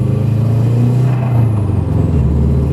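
A car drives along with a loud, steady low engine rumble and road noise, close up and continuous.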